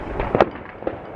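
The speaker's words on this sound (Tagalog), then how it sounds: "Non-stop fireworks." Fourth of July fireworks in a neighbourhood pop and crackle in a few quick, sharp bursts at moderate distance, one stronger bang standing out among smaller ones.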